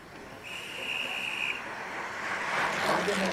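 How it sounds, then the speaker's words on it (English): A sustained high whistle blast sounds for about a second over a steady background of wind and crowd noise. "There's a whistle coming up here as Craig Mareski goes to the front"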